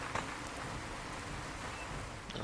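Steady rain falls throughout as an even, unbroken wash of noise, with no voices over it.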